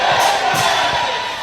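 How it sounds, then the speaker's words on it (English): A crowd at a Christian church service shouts together in a loud, sustained roar, with two swelling bursts of voices rising over the continuous din. "Jump up and shout amen like a Christian"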